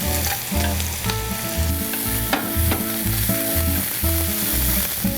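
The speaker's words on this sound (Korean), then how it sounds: "당근이 조금 단단하기 때문에 먼저 볶아주도록 하겠습니다" Carrots stir-frying first in a pan for a spicy webfoot octopus and pork stir-fry, a loud continuous sizzle under a repeating rhythmic tone, with stirring clatter.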